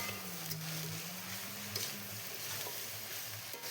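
Potatoes tossed with chopped coriander are stirred in a frying pan: a steady close sizzle runs throughout, broken by a few soft scraping knocks of the utensil, with no voices.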